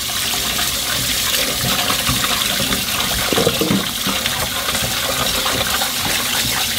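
Sea bass being rinsed under running water in a kitchen, a continuous close hiss of flowing tap water with faint splashing as the fish is handled.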